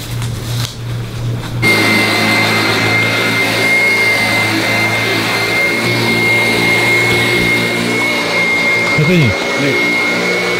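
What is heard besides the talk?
vacuum cleaner running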